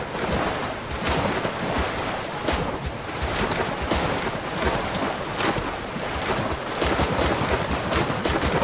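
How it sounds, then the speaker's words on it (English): A paddle boat built in Zelda: Tears of the Kingdom churns steadily through water, a constant rushing wash of splashing and wind-like noise with no pauses, loud and close throughout. "No Frogs has come up with this paddle boat design"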